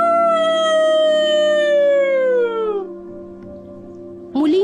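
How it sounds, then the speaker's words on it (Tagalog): A long, loud dog-like howl from an aswang horror story slowly glides downward and fades, followed by a brief higher cry at the end. "Muling alulong ng isa tila aso."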